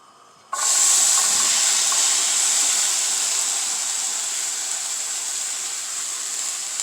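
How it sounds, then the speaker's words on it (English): Vegetables, including onions, stir-frying over medium heat in a pan, giving a steady loud hissing sizzle that starts abruptly and holds on with no talking. "I'm just going to stir fry the vegetables so that they get nice and soft"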